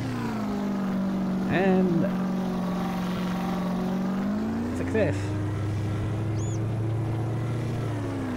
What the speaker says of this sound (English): he needs to reduce the volume slightly on the engine sound